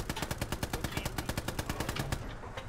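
Russian weapons firing in the World War II shooter Hell Let Loose, a rapid, steady automatic burst of about two dozen evenly spaced loud shots, close and continuous, with no talking over it.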